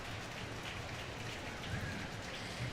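Steady rain pours down during the Lyon Dance Biennale street parade in 2016, a dense, even hiss of drops hitting surfaces that lasts throughout with no voices.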